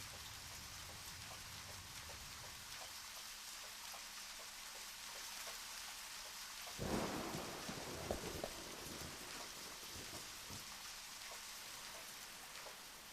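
Steady rain pours in the video game Deadly Premonition, a dense continuous hiss with a brief louder rumble and splashes in the middle, heard alone without talk.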